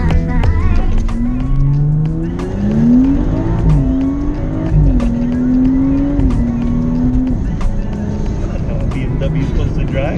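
A 13-year-old BMW accelerating hard, engine pitch climbing and dropping through several quick gear shifts, loud and close inside the cabin, with people talking over it.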